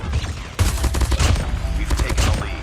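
Rapid bursts of Krig 6 rifle fire in a shooter game on mobile, dense, loud, repeated shots in quick succession running nearly throughout, with a voice talking over them.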